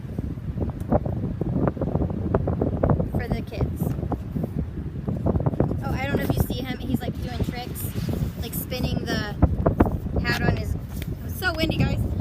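Gusty outdoor wind buffets the microphone in rough, continuous rumbling bursts while a person talks over it throughout.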